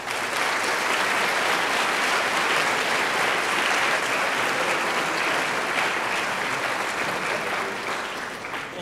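An audience at a theism versus atheism symposium claps steadily and loudly throughout, a dense, even wash of applause with no voices over it.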